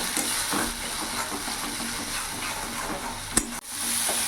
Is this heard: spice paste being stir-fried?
yes